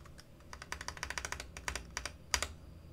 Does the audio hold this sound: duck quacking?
no